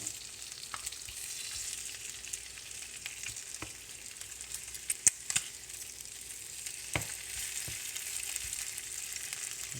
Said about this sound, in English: smell and hear when it's time to turn my bacon